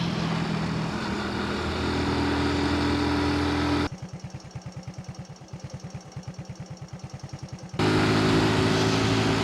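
A Honda 90 motorcycle engine runs steadily, then breaks into a quick, even train of popping pulses for several seconds before returning to a smooth drone. Heard on a ride near the Lammermuir Hills in the Scottish Borders.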